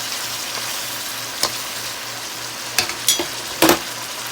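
A seasoned sauce for baked shrimp with glass noodles is stirred in a pan, a loud, steady frying hiss broken by a few short spoon scrapes toward the end.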